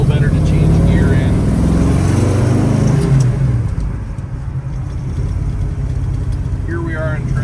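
A 1965 Chevrolet Chevelle Malibu coupe with a 500-horsepower 454 LS7 big block and Muncie gearbox rumbles deep and loud in traffic, easing off partway through, with someone talking over it.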